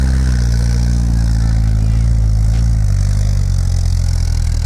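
A 79-horsepower 4x4 off-road vehicle with military axles, welded front and rear differentials and cut tires runs in snow, its engine droning loudly and steadily up close, the pitch dipping slightly partway through with no voices.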